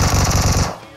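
Rapid automatic gunfire in the mobile game PUBG Mobile, a loud, close, fast burst of shots that cuts off and fades after about two thirds of a second.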